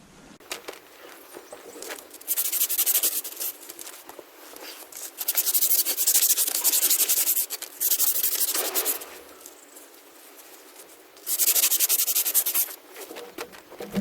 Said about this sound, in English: We'll just give that a little polish back in the back there.